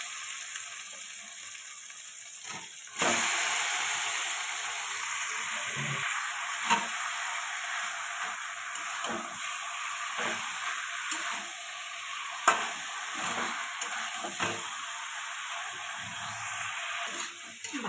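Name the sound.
chicken frying and being stirred in spice masala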